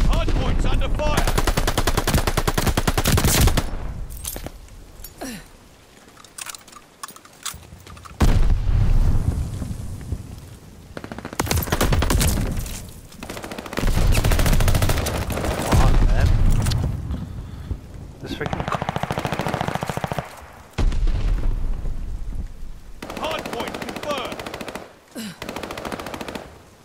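Sustained automatic gunfire and heavy bursts at a contested hard point in a video game, loud and dense, broken by brief lulls and scattered booms, with voices faintly underneath.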